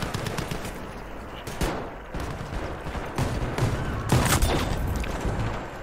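Near-constant video game gunfire from Battlefield V, rapid automatic bursts over a dense rumbling battlefield bed, with a few heavier cracks punching through toward the end.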